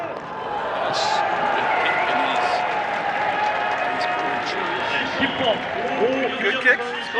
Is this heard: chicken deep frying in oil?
no